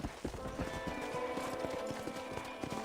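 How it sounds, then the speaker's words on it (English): Horse hooves clop in a steady riding rhythm in the video game Red Dead Redemption, close and clear over faint background game sound. "if you can still ride a horse."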